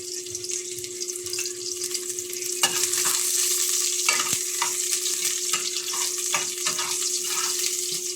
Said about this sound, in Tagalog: Alright mga boss, ilagay na natin yung ating sibuyas.